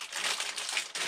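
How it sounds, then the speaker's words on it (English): A plastic bag crinkles and crushes up close in a cluttered shed, a continuous dense rustle of the thin plastic being handled and folded for about a second, with no talking. "I've got it into this plastic bag."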